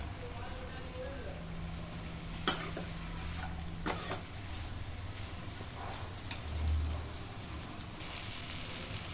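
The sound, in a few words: spices being stirred and fried in a pan on medium flame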